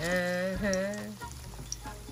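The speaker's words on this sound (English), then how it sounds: "That's sizzling right there." Chicken sizzles steadily in a frying pan for honey garlic soy sauce chicken, heard close; a voice talks over the start before the frying continues on its own.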